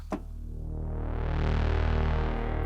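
A sustained electric guitar chord rings out through a spring reverb, its metallic, splashy tail shimmering around it, swelling slightly and holding steady.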